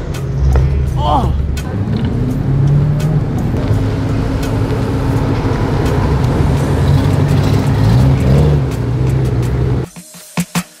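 Heavily modified BMW M cars (F10, F82, F87, F90) on a track, with a loud, close engine roar holding steady and shifting in pitch as it passes, voices faintly mixed in, then dropping away abruptly near the end.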